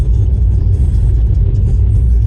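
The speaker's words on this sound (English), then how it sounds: "So I'm going out driving the E63 now." A Mercedes E63 AMG car with a deep, heavy low rumble close by, a steady throbbing engine drone in wet UK weather, no voices heard.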